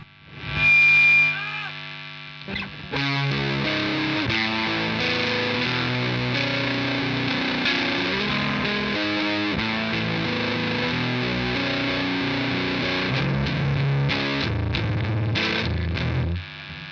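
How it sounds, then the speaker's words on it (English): Electric guitar played through a Bigfoot Engineering King Fuzz pedal, thick distorted chords and notes ringing steadily after a brief squealing intro, loud and close. "I can hear the fuzz now. I can hear it fuzzing up, but it's still got clarity."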